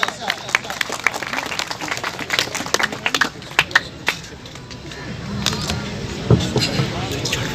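Audience applause for a speaker at a Pakistan Independence Day celebration, scattered sharp claps building into a fuller burst of clapping, with talk mixed in.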